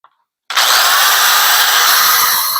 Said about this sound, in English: Drilling some shank holes so I can put the nails through easier